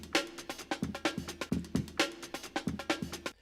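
The drum break plays as a tight, busy sampled groove of kicks, snares and hi-hats in a steady syncopated rhythm, ending abruptly.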